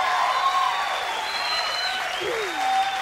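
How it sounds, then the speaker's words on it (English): Studio audience at a television talk show breaking into sustained applause and cheering, a dense, steady wash of clapping with some whoops throughout. "The crowd goes crazy."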